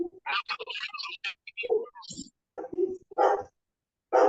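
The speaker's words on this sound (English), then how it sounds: "now we got a dog going." A dog barks in short, sharp bursts in the background of an online group meeting call, mixed with people talking over it, fairly close and intermittent.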